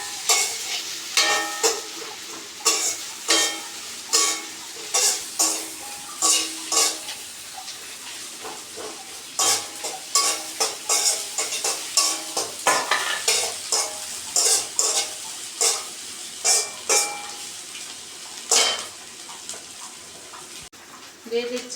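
Onions and green chillies sizzle in a pan for a Bengali tangra fish curry, with a utensil stirring and scraping in steady, repeated strokes and a voice speaking now and then.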